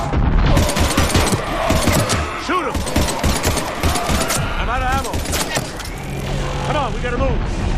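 Rapid gunfire in a Mass Effect 3 firefight, loud close bursts of automatic shots that run continuously, mixed with battle effects and voices shouting over the shooting.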